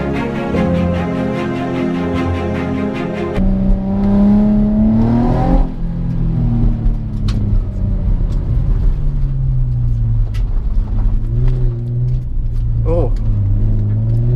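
A drift car's engine revs and pulls away, rising and falling in pitch, with people talking over the motor throughout.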